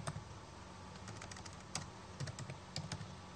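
Typing on a computer keyboard while saving a batch script file, with scattered quiet keystrokes over a steady background hiss; no talking.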